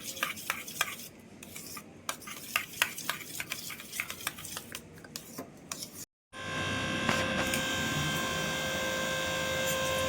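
A spoon scrapes and clinks through a sauce and batter mixture for a veg Frankie wrap in quick irregular strokes, then after a brief gap a steady sizzling hiss takes over.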